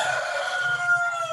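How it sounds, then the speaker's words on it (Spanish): A rooster crows nearby in one long, drawn-out call that holds a steady, bright pitch, loud and clear with no other sound around it. "El gallo canta por ahí."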